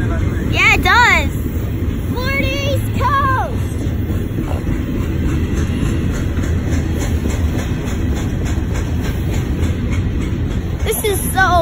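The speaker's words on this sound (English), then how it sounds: "This is so long of a train." A long intermodal freight train carrying shipping containers rumbles steadily past close by, a continuous low roar with faint rail clatter, while people talk over it near the start.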